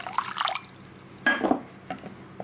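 Water is poured from a measuring cup into pumpkin bread batter in a mixing bowl: two short bursts of splashing and trickling with faint drips between them, close by.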